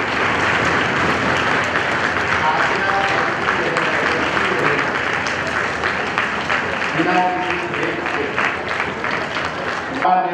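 Sustained applause from an audience at a children's and youth parliament event in Siwan, steady and dense throughout, with voices mixed in underneath.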